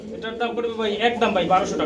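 Pigeons coo in low, rolling murmurs close by at a pigeon sale, heard under someone talking steadily.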